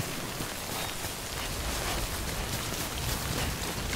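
Rain pours down in the opening of the video game Death Stranding, a dense, continuous wash of falling water that stays steady and fairly loud throughout with no voices.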